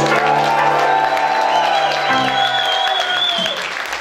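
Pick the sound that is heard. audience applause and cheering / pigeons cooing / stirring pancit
audience applause and cheering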